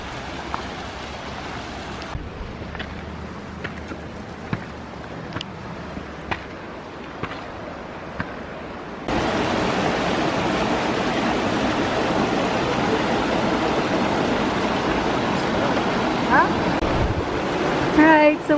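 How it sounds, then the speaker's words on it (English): Rushing water from the top of a waterfall on a Colorado Springs trail with small bridges, a soft hiss at first that swells into a loud, steady roar at mid-clip, with brief wind bumps on the microphone. "so we're on top of the waterfall here"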